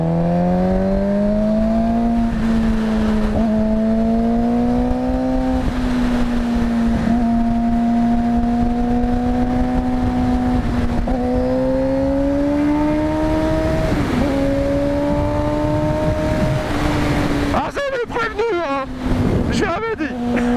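A motorcycle passes a truck in second gear, its engine climbing in a steady high rev with pitch rising and dipping, loud and continuous over wind buffeting throughout, with a brief burst of clatter near the end.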